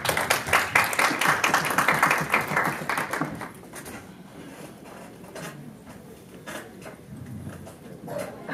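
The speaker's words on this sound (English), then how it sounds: "One more big round of applause for Prarthnaji." An audience applauds at a speech event, a dense burst of clapping that thins out after a few seconds into scattered claps and room noise.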